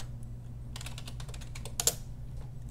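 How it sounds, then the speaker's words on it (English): Typing on a computer keyboard, a fast run of light clicking keystrokes in bursts over a low steady hum, with a couple of sharper key strikes near the end. "I'm pretty sure I typed that wrong."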